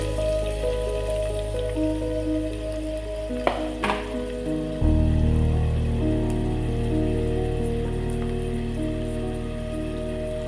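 Onions hitting hot oil in a pan start a loud, steady sizzle, which swells sharply after a couple of brief clinks and keeps frying continuously throughout.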